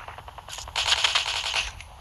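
Rapid automatic gunfire in Call of Duty, a fast rattling burst that builds from lighter shots into a louder sustained stream of close, dense reports for about two seconds, no speech over it.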